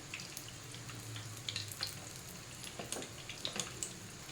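Oil sizzles steadily in a hot pan for chicken drumsticks, a close, soft hiss broken by small crackles and pops, with no voices.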